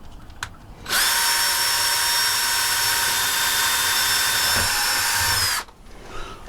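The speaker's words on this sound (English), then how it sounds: "So just get my drill and put it in position." A power drill runs steadily for about five seconds while boring a hole to install a model train signal decoder, starting and stopping abruptly, loud and close with a sustained whine and no talk.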